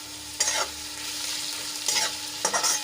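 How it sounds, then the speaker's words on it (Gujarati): Onions and tomatoes sautéing in a pan for moong pulao: a steady sizzle under three short bursts of spoon-stirring, close and fairly loud. "તો એક મિનિટ માટે આને આપણે સાંતળી લઈશું"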